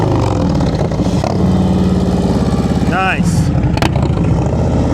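A motorcycle engine putters at low, slow speed during a riding practice session in Massachusetts, loud and close with a continuous uneven rumble while people talk briefly over it.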